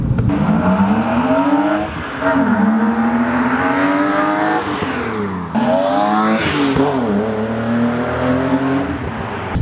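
BMW E36 M3 with its 3.2-liter straight-six revving hard and loud, rising and falling pitch sweeps as the engine climbs and drops through the revs, close to the car with no talk.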